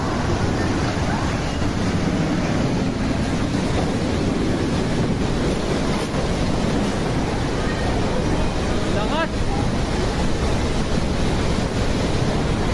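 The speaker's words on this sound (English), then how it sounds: "Heavy winds and rain hit the area, causing damage to structures and flooding roads." A heavy wind and rain storm roars steadily and loudly throughout, a dense, unbroken wash of gusting wind buffeting the microphone, with no pauses.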